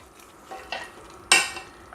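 Egusi sauce stirred in a pot right after crayfish is added: a few close scraping, sizzling strokes, the last one loudest, with no talking.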